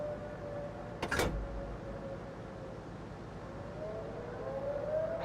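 A siren wails steadily in a tank video game, a rising and falling tone running under engine rumble through the whole passage, with a brief clunk near the start.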